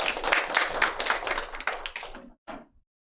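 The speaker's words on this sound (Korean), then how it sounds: "박수 부탁드립니다." An audience at a business event gives a brief round of clapping that thins out after about two seconds, followed by one last short burst of claps.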